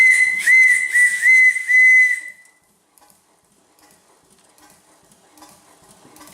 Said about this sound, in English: the whistle does work